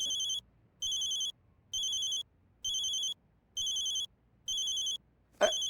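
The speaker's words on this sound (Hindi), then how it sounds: "हमारी ठुमरी का फोन आया" A phone ringtone rings in repeated short electronic bursts, about seven even pulses with brief gaps, fairly clean and close, ending in a quick knock.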